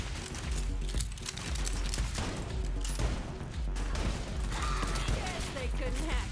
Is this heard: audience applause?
no